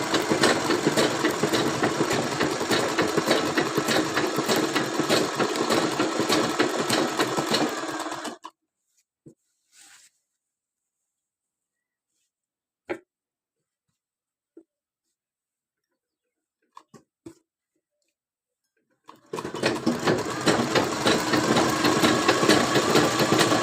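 An electric sewing machine stitching a fall onto a saree runs in a steady fast whirring drone, stops for about ten seconds of near silence with a few small clicks, then starts running again, close and loud.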